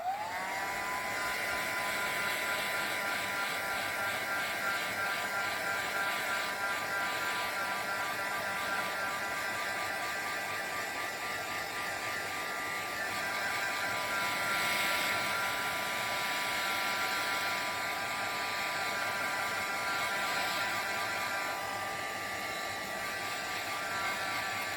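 A handheld heat dryer blows steadily to dry a retro Christmas craft card, a continuous close whirring drone with a high whine that holds level for the whole stretch, without talk.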